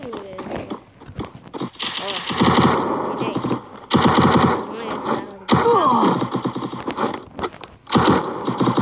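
Video game weapon fire in bursts of rapid shots, loud and repeated across the stretch, mixed with game sounds and an overlapping voice talking.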